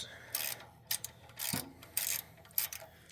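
A half-inch ratchet with extension and 12mm socket loosening the oil drain bolt on a Generac 7500e generator, giving short bursts of clicking and scraping in an uneven rhythm, close up and with no talk.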